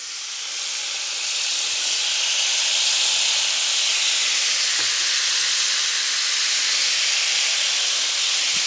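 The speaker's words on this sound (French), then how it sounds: "Je vais remettre un petit peu de marinade sur mes brochettes." Marinade hisses and sizzles as it hits shrimp skewers on a hot plancha, a steady close crackling sizzle that swells after the first second and holds, with faint clicks of handling underneath.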